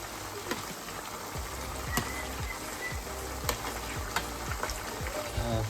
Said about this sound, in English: now I'm frying the red pepper, make it very crispy